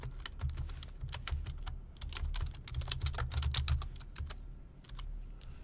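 Java code is typed on a computer keyboard in Eclipse, rapid close clicking in bursts with brief pauses, a low hum underneath and no speech.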